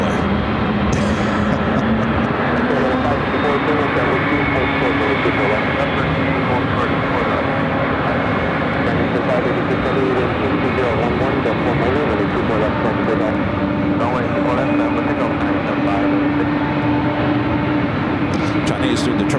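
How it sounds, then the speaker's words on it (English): Airliners at LAX, including wide-body jets on approach to runway 24 right, give a loud, continuous roar of aircraft engines that holds steady for the whole stretch. "But to me, the plane sound is the most important."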